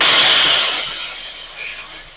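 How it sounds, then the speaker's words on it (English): A high-powered, high-heat jewelry steam cleaner blasting residue off jewelry: a loud, sharp hiss that bursts at the start and then tapers off over about two seconds, with a brief second puff near the end. "we use our steam machine to blast off any remaining residue"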